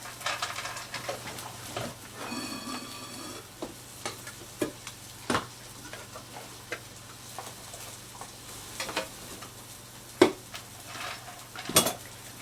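Charlie eating his dinner on a homestead, with irregular clinks, scrapes and small taps of dishes and utensils over a steady low hum, moderately close, no talking.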